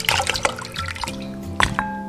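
Pork ribs being rinsed with water in a kitchen, a few splashes and trickles of running water with small clatters, fairly close and alone without talk.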